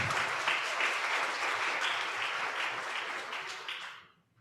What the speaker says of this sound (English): Can we hear some applause?